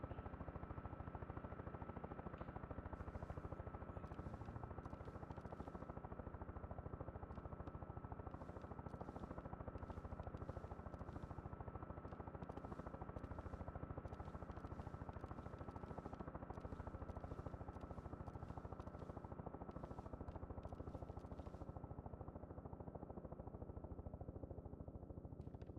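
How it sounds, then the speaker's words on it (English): A helicopter in the video game DayZ drones continuously nearby, its rotor thrum steady and fairly loud throughout, with no talking over it. "I hear the heli, I just can't see the heli."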